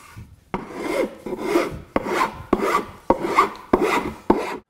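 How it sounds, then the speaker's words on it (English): A hand file rasps across wood in seven evenly spaced strokes, each a close, scratchy push starting sharply and fading, with short pauses between, no voices. "I'll follow up with a file"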